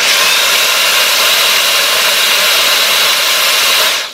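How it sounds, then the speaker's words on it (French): A Roborock H6 cordless vacuum cleaner runs in max mode, a loud, steady high-pitched whine and rushing airflow held close for the whole stretch before cutting off at the end. "pour ce genre de petits trucs à aspirer, il faut souvent passer en mode max"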